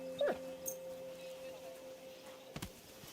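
In Kingdom Come: Deliverance II, a dog gives a quick whimper and yip near the start, then another short yelp near the end, quiet against a low in-game ambient drone.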